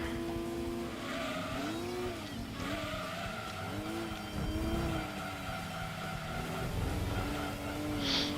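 Race car in Gran Turismo 2 slowing under braking, engine tone dipping and wavering while tires squeal and skid through the corner, loud and continuous with no talk over it.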